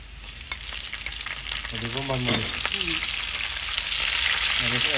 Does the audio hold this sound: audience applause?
no